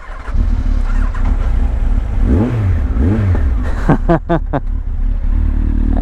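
A Yamaha XJR1300 motorcycle engine fitted with a baffle-free carbon street exhaust idles loudly, then revs up in two long swells followed by a burst of quick, sharp throttle blips, close and alone.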